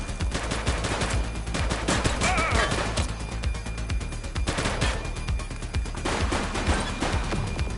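Dense, sustained gunfire from a police shootout in The Precinct, with rapid overlapping automatic bursts and loud shots rattling continuously through the whole stretch and no pause.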